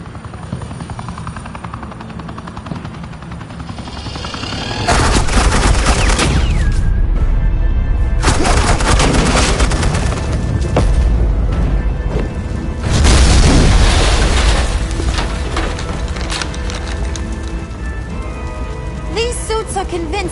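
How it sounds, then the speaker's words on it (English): Heavy suppressing gunfire and loud blasts in Batman: The Enemy Within burst in at intervals over a continuous rotor-like roar, dense and close, after a quieter stretch. "suppressing fire"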